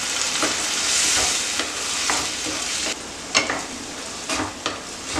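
Cashews and tomatoes in 100 ml of water boil in a pan, sizzling and bubbling steadily up close, with occasional scraping and stirring knocks from a utensil breaking through the hiss.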